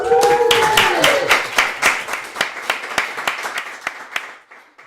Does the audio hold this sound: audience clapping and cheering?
yes